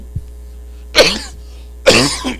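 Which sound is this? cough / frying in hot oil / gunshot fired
cough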